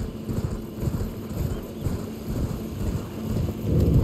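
Horse hoofbeats in Elden Ring, a steady rhythmic clip-clop of galloping close up over a noisy windy bed, swelling slightly louder toward the end.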